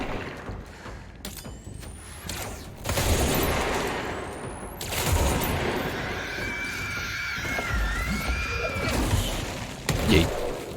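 Enemies exploding in the video game Control, heard as repeated bursts and blasts over a dense, noisy game mix, with a couple of loud hits around the middle and a sharp burst near the end.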